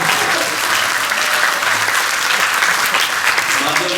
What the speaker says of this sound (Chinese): 我们拍手。